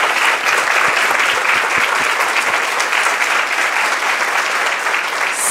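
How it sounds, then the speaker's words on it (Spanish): Loud applause from an audience at a Hogar del Niño and Rotary Club event, dense clapping from many people that runs unbroken and steady from start to finish. "yo voy a pedir un fuerte aplauso para Lali y para Andrés"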